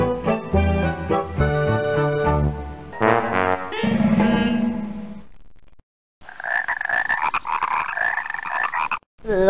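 Frog croaks from the PC game The Cute Company, alternating with bright tonal musical game sounds, loud and close, then a burst of higher, buzzier croaking after a short silence.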